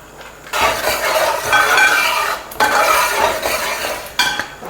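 A spoon scrapes and stirs through jackfruit payasam in a pot after ghee is poured in, loud close clattering strokes in two long passes with a short pause between.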